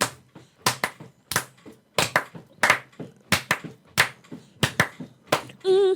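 A small group of people clap in uneven, scattered bursts of sharp hand claps, fairly close and loud, with a brief electronic tone near the end.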